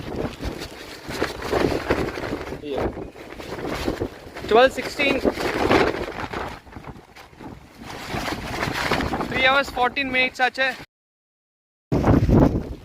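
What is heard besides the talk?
strong wind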